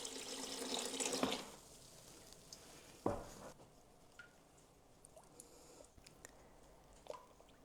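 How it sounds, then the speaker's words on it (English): Water spills over the edge of a small bucket into a larger one in a home pottery studio clay trap, with an early gush, a sharp splash near the middle, then faint trickles and drips. "all the clean water spills up over the edge of this small bucket and goes into the big bucket"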